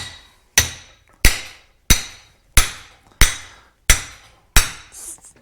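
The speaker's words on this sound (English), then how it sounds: "This will allow me to drive these bearings out of this spindle. Get your favorite BFH" A heavy hammer strikes steel seven times at a steady pace, each blow loud, close and ringing briefly, driving bearings out of a truck spindle on a 1975 Ford 550 in a shop.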